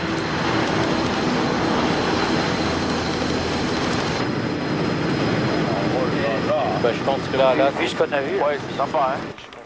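An Airbus A380 airliner diving at high speed in flight during flutter testing gives a loud, dense roar of rushing air and engine noise that drops off partway through, with people talking over the later part.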